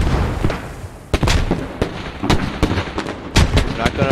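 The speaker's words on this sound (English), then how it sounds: "Mortars coming down on US forces" Mortar shells slam down around US forces in a Squad match, a rapid string of loud, close booming impacts and cracks, some overlapping, over a rumbling battlefield while a caster talks.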